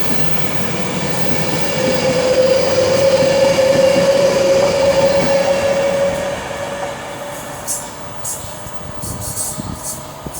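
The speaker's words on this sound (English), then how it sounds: "Passing through around about 49 minutes late. Working 1 Foxtrot 30 from London Euston to Liverpool Lime Street." A passenger train on the London Euston to Liverpool Lime Street service runs through Stafford station on the West Coast Main Line, a loud sustained rumble with a long steady wheel squeal, fading to quieter rolling noise toward the end.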